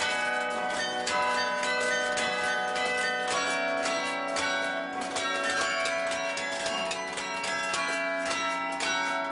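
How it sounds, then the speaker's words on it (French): Carillon bells of the Collegiate Church of Saint-Vincent in Soignies, Belgium ring out a continuous melody, many bright overlapping tones sounding together with a long resonant ring. "de faire naturellement chanter mon carillon"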